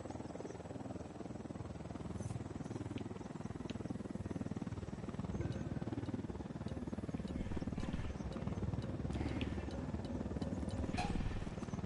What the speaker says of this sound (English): Oh, there's a helicopter behind us.